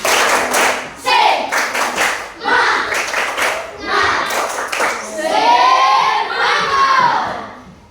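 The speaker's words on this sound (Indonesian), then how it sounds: "Kita tepuk semangat dulu." A school class claps a rhythmic 'tepuk semangat' chant, bursts of patterned hand claps mixed with children's voices chanting and shouting, loud and close, ending in sustained voices.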